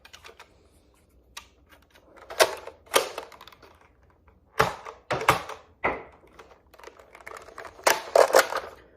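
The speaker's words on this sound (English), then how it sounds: "Now firing some Adventure Force darts." A Nerf N-Strike Barrel Break IX-2 blaster fires Adventure Force darts, giving sharp, close clacks and thunks in scattered bursts, with mechanical clicks and handling noise between shots.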